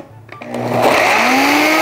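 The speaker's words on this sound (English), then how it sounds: "So I'm just going to be using this Beast blender." A Beast blender spins up with spices inside, rising from a brief start into a loud, steady whirring motor whine that holds to the end.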